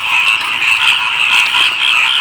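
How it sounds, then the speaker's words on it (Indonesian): A chorus of frogs croaking in the morning, a dense, continuous, loud mass of overlapping rasping calls with no pauses. "indahnya suara-suara kodok tersebut"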